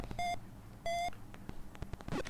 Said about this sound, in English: Sorry about the phone message sound